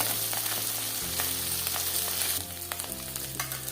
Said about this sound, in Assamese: এয়া মোৰ মোৱা মাছ ধুনীয়াকৈ ফ্ৰাই হৈ আছে